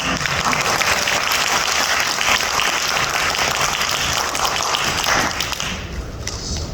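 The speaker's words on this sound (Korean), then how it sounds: "우리 사랑합니다 한번 박수로" Korean-American congregation at a united prayer gathering in Southern California claps together in a sustained, full-room round of applause that stays even throughout.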